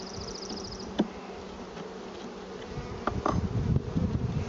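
Honeybees swarm around a hive opened for the first spring inspection, a close, dense buzzing that never stops, with a few light knocks and a brief clatter from handling the hive.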